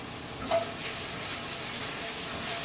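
Vegetables frying and browning in a pan for a veggie curry, a steady soft sizzle throughout, moderately quiet, with one brief clink near the start.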